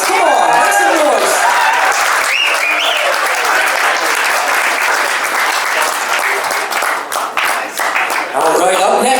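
Wedding guests applaud loudly and steadily at a reception after a toast to the newlyweds, a dense wash of clapping with scattered cheers, while a voice carries over the crowd now and then.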